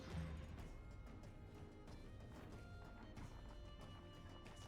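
A horse in the video game Wartales whinnies loudly, then its hooves clatter in a quick galloping rhythm among battle sounds, with no talking.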